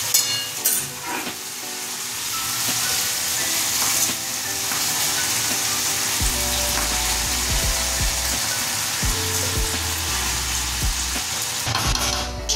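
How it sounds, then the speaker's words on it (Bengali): Gobindobhog rice being stir-fried with spices in oil gives a constant close sizzle with repeated scraping and rattling of the spatula against the pan, no talking. "এবার আমি গোবিন্দভোগ চালগুলো দিয়ে কষাতে থাকবো।"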